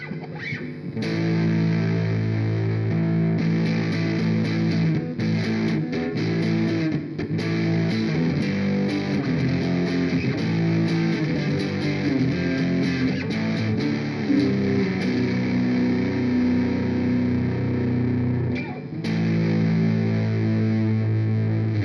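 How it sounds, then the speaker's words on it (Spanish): Electric guitar played through a MOOER Micro Preamp UK Gold pedal with its built-in distortion engaged, a loud, continuous saturated tone of sustained chords and riffs, with a brief drop near the end before it resumes. "Con el efecto de distorsión que trae."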